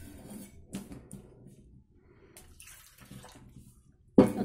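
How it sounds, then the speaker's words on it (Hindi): Small amounts of water are poured into flour for a stiff mathri dough, giving soft, close trickles and splashes in short bursts with quiet gaps, ending in a louder splash. "थोड़ा थोड़ा पानी डालेंगे"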